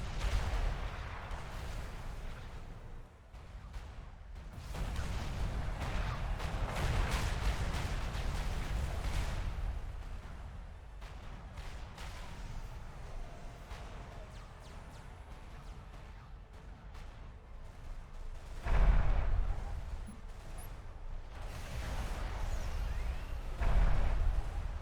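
Artillery fires in the video game Supreme Commander, deep booming reports and rumbling impacts over a continuous low battle roar, with a louder blast near the end.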